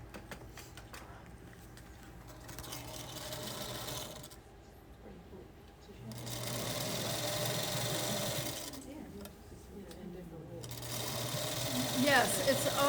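A sewing machine stitching strips of quilt fabric runs in long steady whirring passes with brief stops between them, close and continuous, while a person talks over it.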